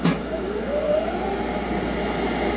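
A Townsend 2600 sausage peeler runs together with its cabinet vacuum pump, giving off a loud, steady whirring drone with a slight rising tone.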